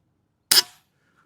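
Snowpeak SPA M60B regulated air rifle firing a single shot at around 135 bar: one sharp, loud crack with a quick decay, in otherwise quiet surroundings.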